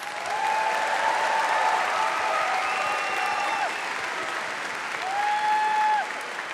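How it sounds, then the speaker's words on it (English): A large convention crowd at MineCon 2012 applauds the Xbox 360 team in a steady, sustained round of clapping, with faint whoops and cheers rising above it near the end. "So give these guys one more huge round of applause."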